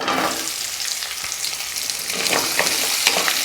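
Steady crackling sizzle of a handful of small shallots frying in hot oil for coriander tomato chutney, close and continuous, with occasional sharper pops and faint stirring.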